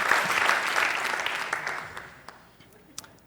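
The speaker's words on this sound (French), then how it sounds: "Un bon main d'applaudissement à Saint-Basile." Audience applause for Saint-Basile at a creation-versus-evolution talk, a dense burst of clapping that gradually thins and fades over a few seconds, with a few scattered last claps near the end.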